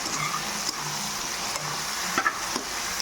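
Green chillies and tomatoes sizzle and fry in a pan for Punjabi black chickpea curry, a steady soft hiss with a few brief stirring scrapes and clinks, no talking.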